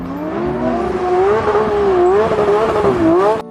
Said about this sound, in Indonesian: Wow, ada satu buah mobil sport keren berwarna merah marun.